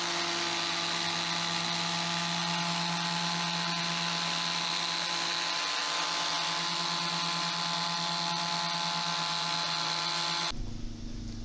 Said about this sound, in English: how well this product takes care of these swirls with a 3-inch polisher